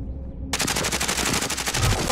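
Gunfire in the video game Call of Duty Warzone: after a brief quiet start, a loud, rapid burst of automatic fire with evenly spaced shots keeps going to the end.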